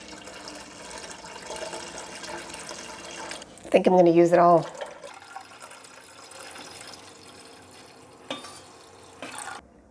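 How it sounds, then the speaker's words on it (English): Water poured into a pot of cheese curds for butter cheese, a short splashing pour lasting about a second, with a spoken voice before and quiet handling noises after. "it's time to replace the whey with water"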